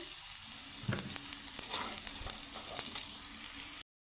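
Fried taro is lifted from a pan of hot oil: a close, continuous sizzle broken by sharp clinks and scrapes of a utensil against the pan, ending abruptly.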